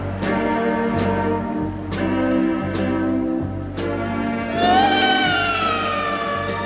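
A cat meows repeatedly, five or six drawn-out, close and loud calls in an uneven rhythm, the last rising into a longer wail.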